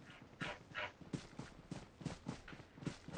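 Horse hooves clip-clop in the BGMI video game, a steady run of about a dozen evenly spaced, moderately loud hoof thuds with a gentle gallop rhythm and no voices.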